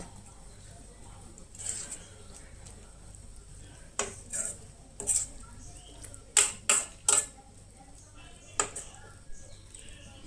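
A spoon stirs milk into grated carrot in a pot for gajar halwa, giving scattered scraping and clinking strokes close by over a low background hum.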